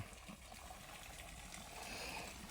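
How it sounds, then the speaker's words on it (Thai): Water runs from a pipe into a storage tank on a farm, giving a steady, continuous rushing and trickling wash that holds at an even moderate level throughout, with no voices. "น้ำไหลจริงๆครับ"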